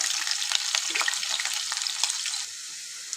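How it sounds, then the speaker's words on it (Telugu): Onions, green chili and cumin seeds frying in a pan make a bright, crackling sizzle close up for a few seconds, easing to a quieter hiss near the end, with no talking. "ఇప్పుడు ఆనియన్స్ మంచిగా ఫ్రై అయినాయి"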